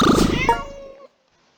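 A grumpy cat pet in the PK XD video game gives a short, close, whiny meow that falls off quickly, with no other sound behind it.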